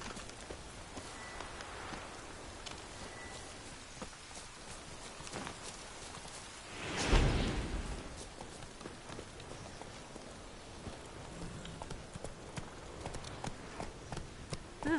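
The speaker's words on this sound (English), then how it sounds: "Riding the horse of black speed bareback through the tree" In the Witcher 3 video game, a horse moves bareback through trees, its hooves thudding in a soft irregular patter over a steady rain-like hiss, with one louder swelling rush midway.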